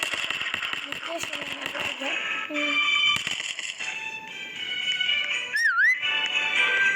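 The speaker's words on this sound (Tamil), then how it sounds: "விசில் அடிச்சிருச்சு." A gliding whistle swoops down and up near the end amid a busy game soundtrack with tones and clatter, heard as a bright, fairly loud pitch-bending call over background sound effects.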